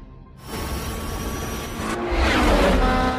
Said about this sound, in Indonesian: Benar saja mobilnya langsung melaju kencang